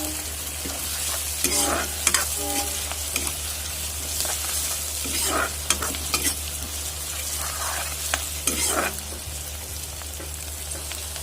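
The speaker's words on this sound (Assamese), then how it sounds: "এতিয়া ইয়াতে মই আদা নহৰু পেষ্টটো দি দিম আৰু আদা নহৰু কেঁচা গোন্ধটো নোযোৱালৈকে মই এইখিনি লৰাই থাকিম" Ginger garlic paste frying and being stirred in a pan gives a steady, close sizzle broken by repeated scraping strokes of the spoon, with no voices.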